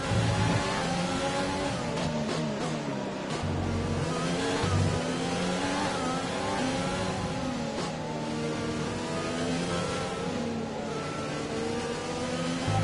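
F1 2020 race car engine screaming at high revs during an overtake at Hungary, a continuous loud whine with rising and shifting pitch throughout, no talking.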